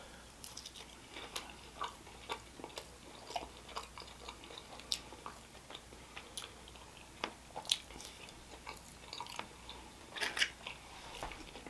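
Chewing on a seasoned potato wedge from Buffalo Wild Wings, a close series of irregular crunchy bites and mouth clicks, quiet but distinct, with no talking.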